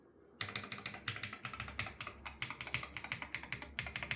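Keys on an ATK RS7 Air magnetic keyboard clack in a fast, uneven typing run after a brief quiet start, each crisp click close and distinct, continuing steadily with no talking.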